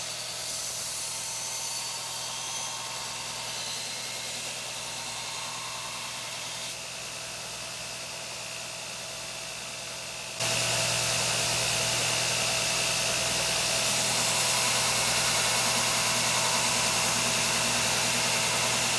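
A belt grinder runs continuously as a blade is finish ground, a steady hissing, whirring abrasive roar that steps up suddenly louder and brighter partway through, then holds dense and unbroken with no talking.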